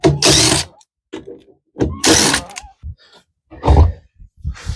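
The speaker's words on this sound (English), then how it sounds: "It has 4 screws that hold it in place, and you want to use a 10mm hex nut to take them off." Counterweight screws on an LG washer being removed with a 10mm hex driver, heard as loud bursts of ratcheting and whirring from a power driver alternating with short clicks and knocks, close by.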